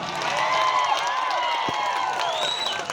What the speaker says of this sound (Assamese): এবাৰ জুবিন গাৰ্গৰ কাৰণে ডাঙৰকৈ হাত তালি এটা হৈ যায়